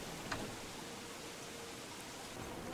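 Rain falls steadily in Don't Starve Shipwrecked, a soft, even hiss of downpour with faint patter, quiet and continuous throughout.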